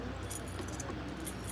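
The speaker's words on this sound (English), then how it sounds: "it looks like the keys are not working with this" Metal keys scrape and rattle against the cardboard packaging of a 9-inch black box fan, making close, scratchy, continuous noise with a sharper clack at the end.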